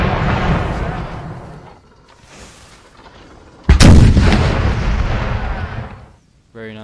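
Napoleonic artillery in a Napoleon Total War battle pounds cavalry. Heavy cannon booms rumble, fade, then a loud close blast erupts and decays, with a muffled voice briefly heard under the firing.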